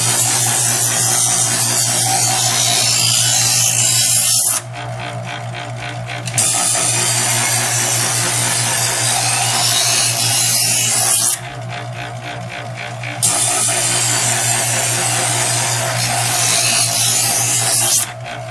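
Chef'sChoice 120 Diamond Hone electric knife sharpener grinding a knife edge, a loud, steady motor whine broken into three long passes, with a short drop in the grinding noise between each pull.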